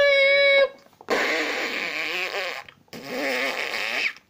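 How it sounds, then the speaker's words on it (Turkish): Two long, loud, wet fart noises in a comedic scene, following a short tonal squeak, each blast raspy and sustained for over a second. "Ağzına doğru osuruyor."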